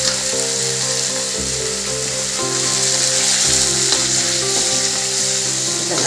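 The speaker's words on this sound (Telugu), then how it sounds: "అదే ఆయిల్లో టమాటాలు వేస్తున్నాను" Tomatoes sizzle and fry in hot oil for a Telangana-style spicy tomato chutney, a loud continuous crackle with occasional stirring knocks close by.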